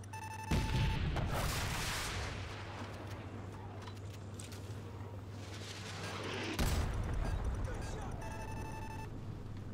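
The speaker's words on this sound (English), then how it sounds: "we're taking heavy fire on our position north of the overpass" Heavy gunfire and booming blasts in Call of Duty Modern Warfare Remastered, two loud impacts standing out over continuous battle noise, with a steady electronic tone and beeps running through.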